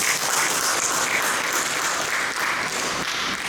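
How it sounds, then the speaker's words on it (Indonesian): Loud, dense applause from a large audience at a cooperative day celebration attended by the governor of East Nusa Tenggara, continuous clapping that fills the space without a break. "Tepuk tangan."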